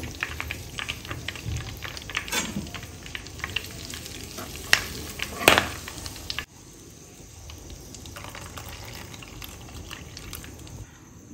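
Butter simmers into ghee in a pan with curry leaves added, a steady crackling sizzle with a few sharp pops, dropping to a quieter bubbling halfway through, with no talking.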